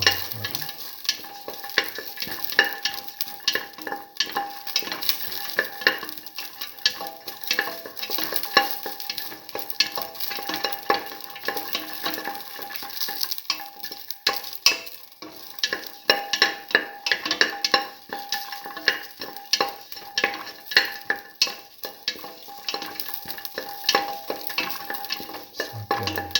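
Garlic and shallots sautéing in a pan, a continuous close sizzle with rapid, irregular scraping and stirring strokes throughout, no voices.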